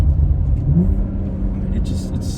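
Deep rumbling engine of a 2017 Porsche Macan GTS pulling hard out of a corner, a loud low growl heard from inside the cabin with someone talking over it.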